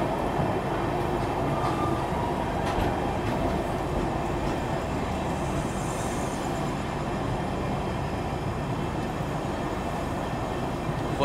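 The Tatanagar–Amritsar Jallianwala Bagh Express at Jalandhar City station gives a continuous heavy rail rumble with faint rhythmic clatter, steady and close throughout.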